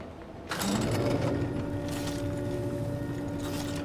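Elevator in the video game Outer Worlds 2 starting to move, a sudden mechanical whir with ratcheting gear rattles and a sustained hum that keeps running to the end.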